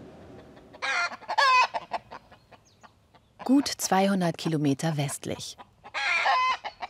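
Swedish flower hens cluck and squawk in short, close, loud bursts at the start and again near the end. A voice narrates between the bursts.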